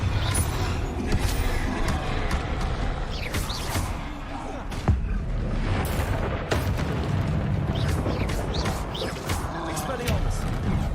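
Dense, continuous booming blasts and crackling eruptions from Confringo fire spells in Hogwarts Legacy combat keep a loud, steady roar, with a voice talking over the chaos throughout.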